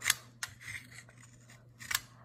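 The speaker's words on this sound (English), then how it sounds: "after you've done that side, start scraping this side" A knife scraping along a wooden pencil to shape it into a tiny sword, heard as a few short, sharp rasping strokes spaced apart, close up and alone.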